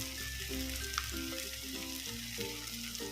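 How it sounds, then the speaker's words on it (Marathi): Tomato sauce going into a hot pan for cheese pasta, a steady sizzle and frying hiss throughout, with faint musical tones running underneath. "आता टोमॅटो सॉस टाकत आहे."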